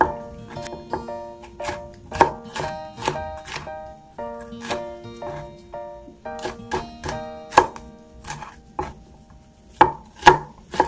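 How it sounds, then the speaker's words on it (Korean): A knife julienning bell peppers on a cutting board, with quick, uneven runs of crisp taps and chops that pause now and then, up close and without talk. "이렇게 해서 채를 좀 썰어서"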